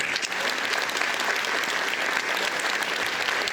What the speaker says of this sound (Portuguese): eu quero que todo mundo faça uma forte salva de palmas para esse excelente profissional